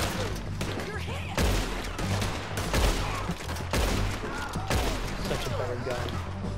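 Heavy, continuous gunfire from many shooters in the video game Red Dead Redemption 2, loud overlapping shots and booms throughout, with a voice talking under the din.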